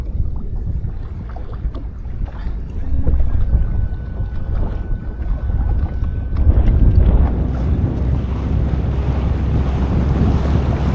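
A fishing boat with a Honda 90 outboard motor runs on open water near Pointe du Bois, Manitoba. A low, steady engine rumble sits under heavy wind buffeting and the splash of water, growing slightly louder partway through.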